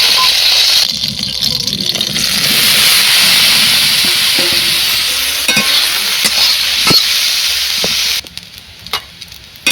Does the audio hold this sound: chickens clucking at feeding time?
no